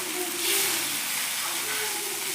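Dosa batter is spread on a hot oiled griddle, giving a continuous soft hissing sizzle close by that swells briefly, with no talk.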